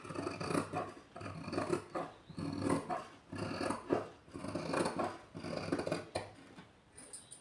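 Scissors cut through blouse fabric along a marked low-neck shape, giving a steady run of rasping, crunching snips close by with short pauses between strokes, and no talking.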